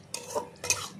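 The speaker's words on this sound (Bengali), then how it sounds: "পেঁয়াজ আর লঙ্কা একসঙ্গে, লঙ্কাটাও দিয়ে দেবো একসঙ্গে" Onions and slit green chilies frying together in a pan, heard as two quick spatula scrapes over a soft sizzle.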